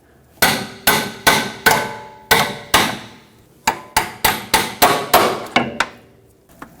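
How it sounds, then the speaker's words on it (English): A hammer strikes the end of a steel pry bar to break a bellows boot clamp on a Jeep Renegade, about fifteen sharp metallic clanks in two quick rhythmic bursts, close and loud with ringing decay. "use a hammer on the end of the pry bar to tap that clamp and break it off"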